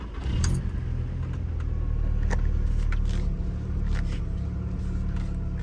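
A car engine fitted with new spark plugs cranks and catches near the start, then settles into a steady low idle rumble, with keys jangling faintly.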